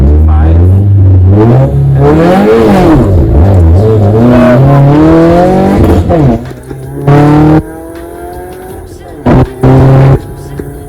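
A Subaru engine revs hard in first gear, rising and falling loudly up close with a tonal sweep, then settles to idle with a few brief blips; a voice speaks briefly over it.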